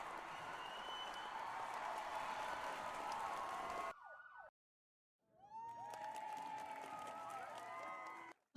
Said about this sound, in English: Sounds like cheering to me.